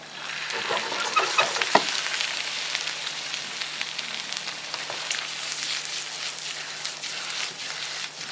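Garlic and chicken livers frying in a pan for chicken liver mousse, a steady soft crackling sizzle with a few sharper pops near the start, fairly quiet and heard alone.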